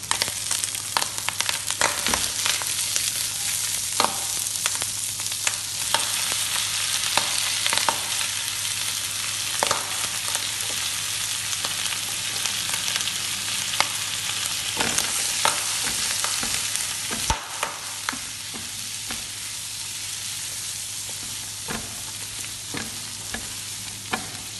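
Vegetables stir-fried in about two tablespoons of oil for bihun (rice noodles) make a continuous loud sizzle, broken by scraping stirs and clacks from a utensil, close and without talk.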